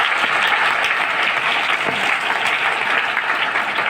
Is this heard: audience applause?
yes